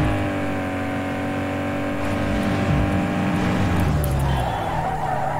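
Race car tires squeal and skid through a corner in Need for Speed Underground 2, a Peugeot revving loudly underneath, steady and close throughout with no one talking.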